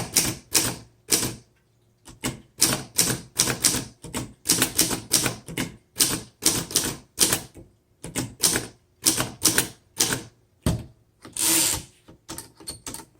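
Keys clacking on a 1928 Underwood four-bank antique typewriter, loud irregular strikes in quick clusters with short gaps, heard close and alone.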